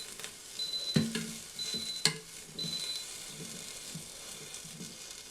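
Asparagus is shuffled around inside an Instant Pot Duo Crisp air fryer lid basket, giving soft scraping and clattering knocks over a faint sizzle, with several sharp metallic clicks and beeps near the start.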